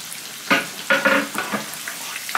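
Garlic sautéing in Blue Band margarine crackles in a pan, with several bursts of sizzling as it is stirred, close and moderately loud, fading to lighter spits between movements.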